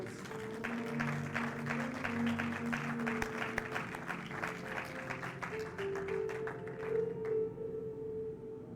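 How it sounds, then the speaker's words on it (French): A church congregation claps together in a steady, sustained round of applause that fades near the end, heard from within the crowd, with some voices mixed in. "Acclamons le Seigneur."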